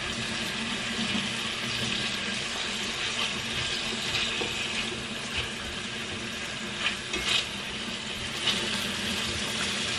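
Water runs steadily from a tap while hands are washed at a sink, a continuous close hiss with faint background noise and no speech.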